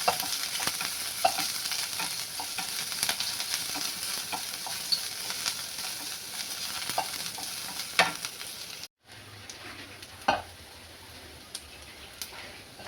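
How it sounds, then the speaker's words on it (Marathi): Chopped onion frying in hot tempering oil for an instant dosa, a loud steady sizzle laced with scraping and clinking as it is stirred, then a short cut and a quieter sizzle near the end, with no talking. "त्याच्यामध्ये तुम्हाला हा कट करून घेतलेला कांदा टाकायचा आहे हे तडक्यामध्येच कांदा टाकायचा आहे आणि हा चांगला परतून घ्यायचा आहे आपल्याला"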